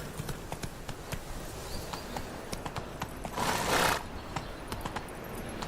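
A horse gallops in The Witcher 3, its hooves pounding in a quick, steady rhythm close by, broken briefly by a louder rushing burst in the middle.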